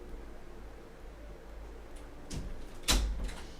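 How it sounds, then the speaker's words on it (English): A door pushed shut indoors, a short soft thud followed by a sharper, louder knock-like close against a quiet room hum. "close the door all the way, please."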